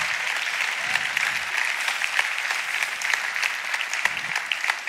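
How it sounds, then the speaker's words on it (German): Church congregation applauding at a Sunday night service, a steady dense wash of many hands clapping at close range, sustained evenly throughout with no talk over it. "Lass uns dem einen Applaus geben"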